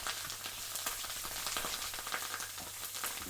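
Halloumi slices fry in a hot pan, a steady close crackling sizzle with scattered sharp pops and no voices.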